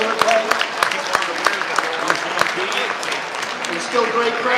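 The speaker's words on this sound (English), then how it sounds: "So round of applause for Pete for making the Battle of the Briar People's Choice Award pipe." Applause from an audience at a pipe show, honoring the maker of the People's Choice Award pipe, with dense clapping and sharp individual claps running steadily throughout.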